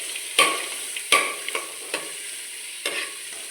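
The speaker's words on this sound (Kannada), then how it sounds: "ಸ್ವಲ್ಪ ಫ್ರೈ ಆಗಲಿ." Onions frying in a pan for a coastal-style silver fish curry, with a soft background sizzle broken by several sharp scraping strokes of a spoon stirring them at irregular intervals.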